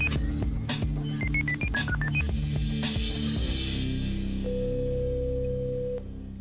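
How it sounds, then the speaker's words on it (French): A telephone number being dialed with DTMF tones, a quick series of short stepped beeps followed by a steady ringing tone, loud and close with no voices. "C'est parti, la régie fait son numéro."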